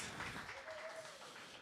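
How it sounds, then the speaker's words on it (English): Audience applause at an agri-food investment summit finale, a steady wash of many hands clapping that stays faint and even throughout. "Round of applause for all of these awesome people. Lots of applause."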